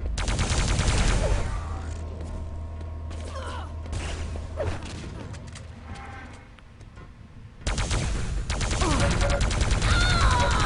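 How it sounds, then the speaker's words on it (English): Shotgun fire during a Quake Live team deathmatch at a Spain vs Hungary international match, heard as dense overlapping gunshot blasts and clatter. The firing runs loud and continuous, dips briefly in the middle, then comes back strong. "Some great hits with the shotgun there"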